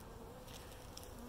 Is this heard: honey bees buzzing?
yes